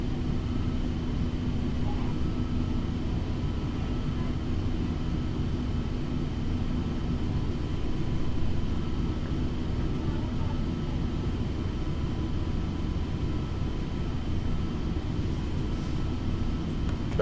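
Airliner climbing in Flight Simulator X on a JFK to Toronto flight, a steady broadband cabin and engine roar holding evenly at moderate level throughout.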